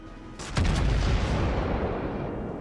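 A heavy naval gun fires in World of Warships with the American battleship Montana, one deep booming shot that rolls into a long, loud rumbling tail and fills the rest of the clip.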